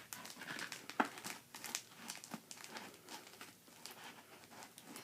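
Plastic packaging on a Marvel Legends Man-Thing action figure being crinkled and cut open, with scattered close rustles and crackles and a sharper snip near the start, fairly quiet throughout.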